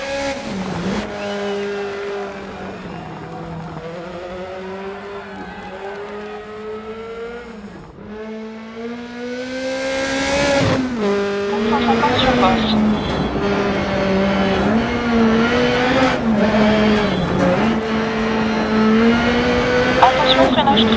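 Rally car on a gravel power stage accelerating hard out of a 90-degree corner, its engine note rising steadily through the gears, loud and close, with a co-driver's voice reading pace notes over it.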